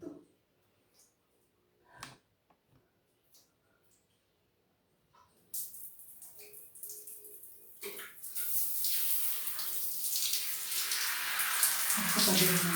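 Water runs for a bath, starting abruptly after a stretch of near silence with a few faint knocks and movements. The gush grows steadily louder and fuller, close by.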